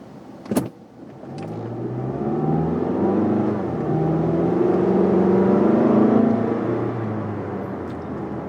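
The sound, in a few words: car engine revving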